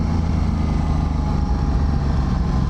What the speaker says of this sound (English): I really like the intake noise.